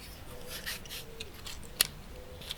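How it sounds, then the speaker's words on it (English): Soft papery rustling and scraping of a matchbox being handled, with a sharp click partway through, quiet and close. "The box shuffles in your hands"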